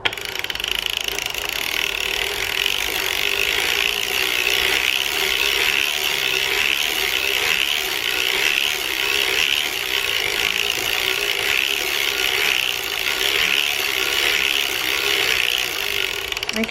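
A Gertie hand-cranked sock knitting machine cranking out rows, a loud, continuous and even ratcheting clatter of gears and needles heard close up and alone.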